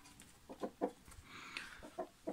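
Chickens on a small farm cluck softly in short bursts, a quiet uneven series of close clucks with brief pauses between them.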